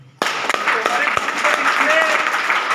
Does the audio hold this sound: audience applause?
yes